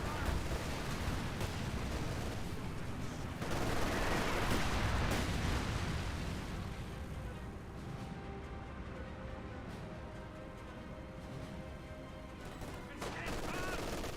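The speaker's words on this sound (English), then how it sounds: "see the artillery barrage there" Artillery barrage in the real-time strategy game Company of Heroes 2, a dense, sustained rumble of overlapping shell blasts and gunfire that swells around the middle and then settles into a steady roar, with a voice commenting over it.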